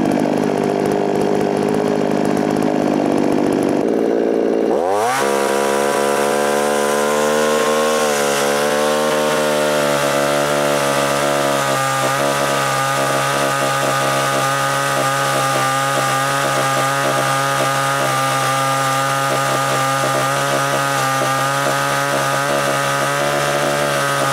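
A chainsaw with a freshly sharpened chain cuts through a tough tree root, starting with a brief rough idle before revving into a loud, sustained high-pitched whine that holds steady for over twenty seconds, close up with no talking.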